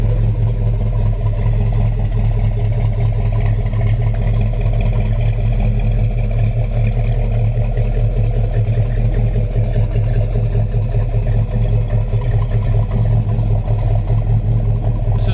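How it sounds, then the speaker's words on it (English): A 1972 Pontiac LeMans muscle car with a 389 engine and four-speed idles close by, a loud, steady, deep rumble with a faint lope that holds without pause throughout. "You can tell by just a little bit of a shake that it's got when it's sitting here idling"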